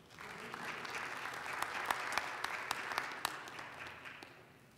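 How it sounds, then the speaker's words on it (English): An audience at a digital health summit at CES applauds in a steady, fairly faint wash of clapping, with a few sharper individual claps standing out before it fades. "Give them a round of applause."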